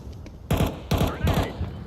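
Video game gunfire comes in three sharp, loud automatic bursts. Each burst lasts a fraction of a second with short gaps between them.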